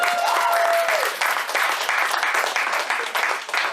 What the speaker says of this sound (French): Yo, on applaudit ce gars-là, man!